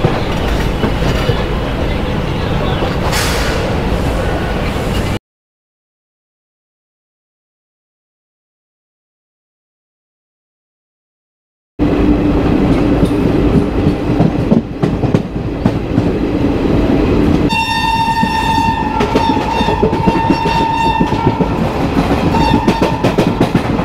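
Amritsar to Haridwar Jan Shatabdi Express running, with a loud continuous rumble and rhythmic clatter of wheels on rail, then a high steady squeal over the roar, broken by a few seconds of total silence, with no voices.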